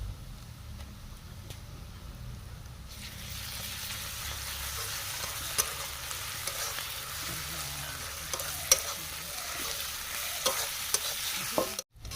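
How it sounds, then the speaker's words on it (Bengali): Onions fry in a pan with ginger-garlic paste and green chili paste, giving a steady broadband sizzle that swells louder partway through as the paste goes in, with occasional stirring scrapes and clicks and no voices. "ব্রাউন করে পেঁয়াজগুলো ভেজে নেবো পেঁয়াজ ফ্রাই হয়ে গেছে আমাদের দিয়ে দেবো আদা রসুনের পেস্ট তার সঙ্গে কাঁচা লঙ্কা বাটা"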